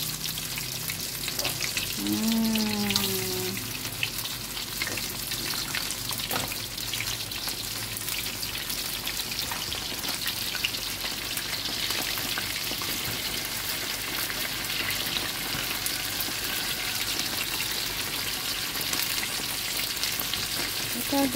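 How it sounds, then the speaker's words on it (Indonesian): Small whole crabs fry in a pan after being coated in salt, turmeric and cornflour batter, giving a steady, loud sizzle and crackle that runs the full length with no voices. "Kita goreng ketam."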